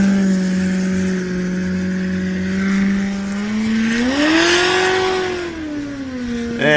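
A rally race car engine at the 2023 NORRA 500 off-road event holds a steady high-RPM drone, then climbs and swells in pitch before easing back. It sounds loud and close throughout, with no talk over it.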